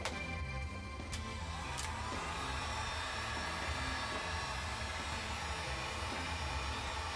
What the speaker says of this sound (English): So this is a heat gun.